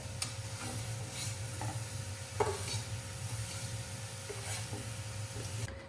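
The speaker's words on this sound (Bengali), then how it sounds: "এটা কড়াইটা গরম হয়ে গেছে একটু একটু করে দিয়ে দিই" Patishapta batter of flour, jaggery, coconut and milk sizzles steadily in a hot wok, a constant close hiss with a few light scraping clicks and taps and no talking.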